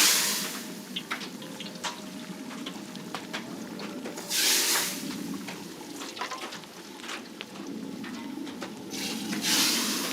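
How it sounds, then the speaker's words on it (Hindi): Kashmiri chillies dropped into boiling ghee for a tempering at a wedding feast kitchen give a loud, continuous sizzle and crackle, with bursts of louder frying swelling at intervals. "खौलते हुए घी में कश्मीरी मिर्च डाल के तड़का लगाया।"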